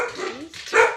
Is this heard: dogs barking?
yes